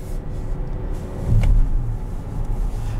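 Engine of a 2021 Buick Enclave Avenir as it downshifts, a low steady drone inside the cabin with a brief swell in pitch and loudness midway before settling back.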